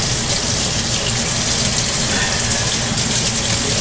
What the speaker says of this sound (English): For those of you who do not enjoy the sound of running water, you probably will not like this video.